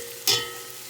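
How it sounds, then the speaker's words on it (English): Garlic hits a hot pot for a pasta gravy sauce, a brief close burst of sizzle that settles into a faint, steady low fry. "the garlic will just saute for about a minute and a half, just till it starts giving off its bouquet"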